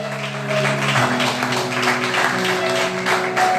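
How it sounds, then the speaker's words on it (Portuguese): A church congregation claps together, a dense wash of applause that runs steadily and fairly loud beneath sustained keyboard chords. "Então vamos aplaudir o Senhor Jesus."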